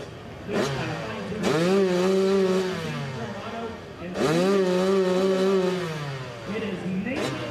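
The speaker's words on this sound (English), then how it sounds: "So here's Nathan Preeb, the 94 bike." Harley-Davidson motorcycle, bike number 94, at a hill climb event, its engine revving loudly in two long sustained surges with rising and falling pitch, separated by a short drop.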